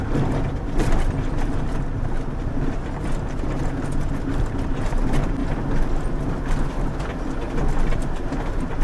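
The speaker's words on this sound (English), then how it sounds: "And my bikes are wiggling" Bicycles strapped to a rack on a moving camper van jiggle and rattle over a continuous low road rumble, with irregular knocks and clatters scattered throughout and no talking.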